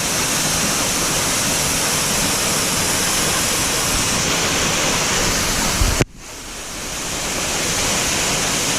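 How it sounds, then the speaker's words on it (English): Indian Falls in the Adirondack High Peaks roars in a dense, continuous wash of noise, close and loud, with a brief dip partway through before the rush returns. "There's the base of Indian Falls right there."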